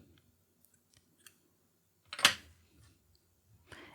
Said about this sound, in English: And then I will cut the yarn, but leave a bit for sewing.